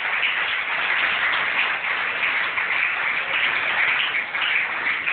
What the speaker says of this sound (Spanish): Si va a aplaudir al Señor, déle ese aplauso con vida